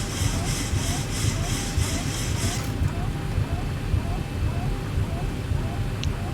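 The stabilizer trim wheel of a Zibo 737-800 in the X-Plane simulator spins with a rapid, evenly pulsed clacking for about three seconds, then stops, over a steady cockpit engine hum.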